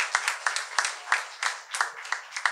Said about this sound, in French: Allez, on les applaudit, ça va les encourager un peu